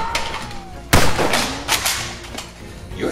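Nerf blaster shots ring out in a Nerf war: one sharp, loud snap near the middle, with fainter pops and clatters around it.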